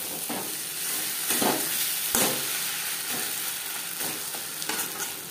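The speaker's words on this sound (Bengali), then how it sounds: "মাছের তেলের সাথে টমেটো বেশ ভালো করে মিক্স করে দেবো।" Sliced tomato sizzles and fries in bhetki fish oil while a utensil stirs it in a pan, with steady frying hiss broken by several scraping stirs close by.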